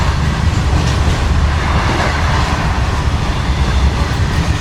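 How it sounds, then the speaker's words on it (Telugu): An express train arriving at Tenali Junction platform, heard from on board as a steady loud rumble of rolling wheels and carriage noise with no gaps and no talk. "తెనాలికి మన ట్రైన్ ప్లాట్ఫామ్ 3కి అయితే వచ్చింది"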